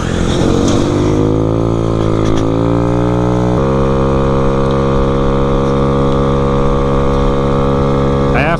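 Honda Ruckus scooter engine held at top speed on the road, a loud, steady droning buzz close up that shifts pitch once and then holds, with wind rushing throughout.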